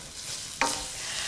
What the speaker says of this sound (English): just stir that and let the spices toast a little bit